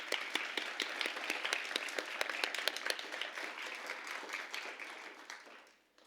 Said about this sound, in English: Big round of applause to all those.